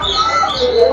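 A turkey call rings out continuously at a mini zoo in Qatar, a tonal warbling cry with a steady, close presence, no talking alongside it.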